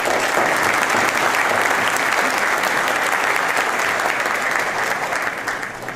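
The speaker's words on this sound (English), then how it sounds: "Can I have a round of applause for our judge?" Dense, loud audience applause for a county judge at a State of the County address, a continuous wash of clapping from a large room that holds steady, then begins to fade at the end.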